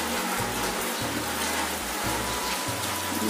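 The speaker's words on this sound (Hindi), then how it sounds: "सही जोर से बारिश हो रहा है" Steady, dense heavy rain hisses continuously, drumming on a surface close by with no breaks.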